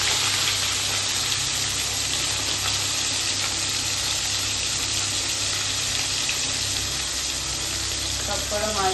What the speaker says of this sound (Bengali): দেখো এবার এক এক করে মাছগুলো আমি ভেজে নেব